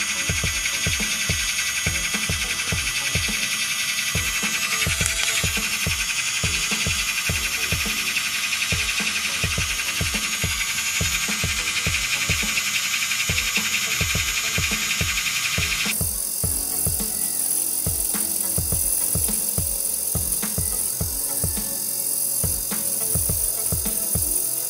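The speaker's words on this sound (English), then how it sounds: "I want to try this drill bit here because I think it'll get closer into those nooks and crannies that I'm trying to get" A MelodySusie Pseries electric pedicure nail drill with a fine bit buzzes steadily with a high whine against a toenail, with rhythmic low pulses throughout. Partway through the tone abruptly drops in pitch, and no one talks.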